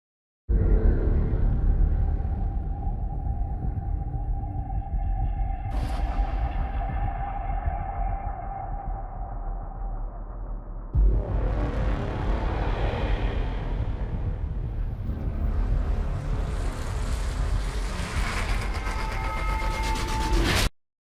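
Cinematic trailer music cue with deep rumbling low drones, a sharp hit and swell near six seconds, and a heavy impact opening a denser, building section, loud and continuous until it cuts off.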